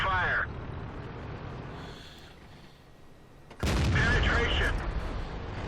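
A loud tank cannon shot from a Bat.-Châtillon in World of Tanks booms in suddenly after a quieter stretch of game ambience and faint radio-style crew voices, then sustains with a heavy rumbling tail.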